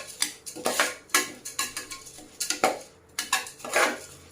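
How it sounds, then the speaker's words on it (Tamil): A spoon stirring venpongal in a metal pot, repeated scraping and clinking strokes in an uneven rhythm, close and fairly loud, with no talking. "இப்போ நல்லா நம்ம இதை கிளறி விட்டுக்கலாம்."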